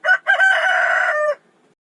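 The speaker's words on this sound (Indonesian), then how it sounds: "Tahukah kalian mitos dan faktanya kenapa ayam berkokok di tengah malam?" A rooster crows once nearby, loud and clear: a short opening note, a brief gap, then a long drawn-out call that ends abruptly, followed by silence.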